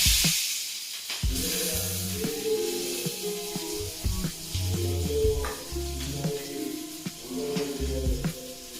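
Chopped onions sizzling in hot oil with tempering seeds of black gram, cumin and mustard, a steady close frying hiss broken by stirring clatter against the pan.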